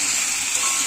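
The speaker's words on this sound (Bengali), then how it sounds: "নুন আর হলুদে আলুগুলোকে ভালো করে ভেজে নেবো।" Potatoes fry in a pan with salt and turmeric, giving off a steady, close hiss and sizzle that holds evenly through the whole short moment.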